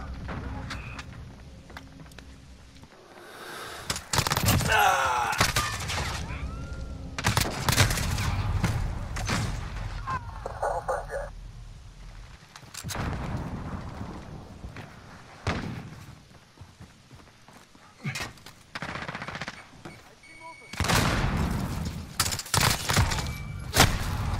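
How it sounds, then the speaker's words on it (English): Gunfire and explosions in the video game Call of Duty Modern Warfare, with bursts of shots, heavy thuds and booms alternating with quieter gaps over about twenty-four seconds, and brief in-game voice radio chatter mixed in. "Enemy fire!"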